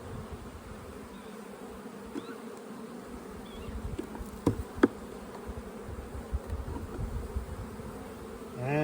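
Honey bees buzzing around an open hive in a bee yard during frame inspections, a dense, steady drone close to the microphone with a few individual bees whining past.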